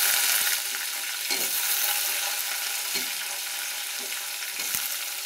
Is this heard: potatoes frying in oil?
yes